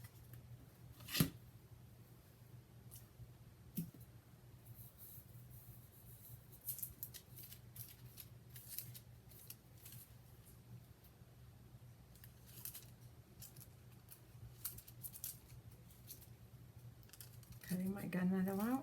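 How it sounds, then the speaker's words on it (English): Scissors cutting a sheet of gunmetal-colored foil for scrapbooking titles, heard as sparse crisp snips and faint crinkles close by over a low steady hum, with brief rustling near the end. "Cutting my gunmetal out."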